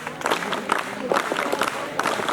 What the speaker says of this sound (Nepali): जति ताली बजाए त्यति फाइदा हुन्छ स्वास्थ्यको लागि